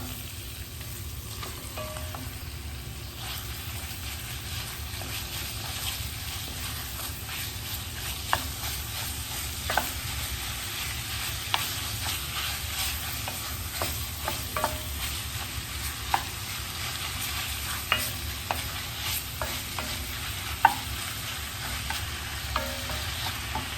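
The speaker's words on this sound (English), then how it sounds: "I'm going to go ahead and add my ground beef." Ground beef sizzling in a pan for a budget shepherd's pie, a steady close frying hiss with occasional scraping stirs and light knocks of a utensil against the pan, with no talking.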